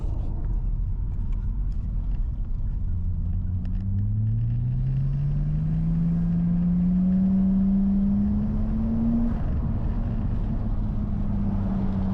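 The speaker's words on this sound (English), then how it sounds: "Just gonna do a 2nd gear pull." A Nissan Skyline R34 sedan with a turbo revs up through a second gear boost pull, its engine drone rising steadily in pitch under continuous road rumble from inside the car.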